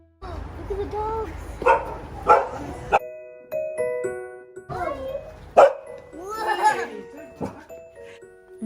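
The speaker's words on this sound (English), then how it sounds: "These are golden retrievers." Golden retrievers bark and yip in an indoor setting among excited, high-pitched voices, with several sharp barks scattered through a lively, busy scene.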